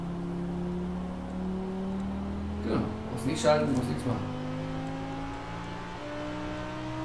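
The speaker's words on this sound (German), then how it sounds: "Das Auto fährt jetzt im dritten Gang." A car cruising in third gear in Forza Horizon 4, with a steady engine hum and slowly rising pitch as it gains speed, and people talking over it midway.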